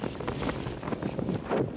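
Strong wind gusts buffet a Nortent Vern 1 tent outdoors, a steady loud roar of wind and microphone buffeting with surging peaks through the whole short stretch, no voices.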